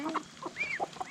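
A chicken clucks several times in short, uneven bursts, close by and fairly quiet.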